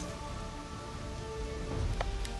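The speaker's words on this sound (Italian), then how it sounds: "È cominciato a piovere alle 8 e 8." Steady rain patters down in a forest, a dense even hiss of drops with a few louder splashes close by toward the end.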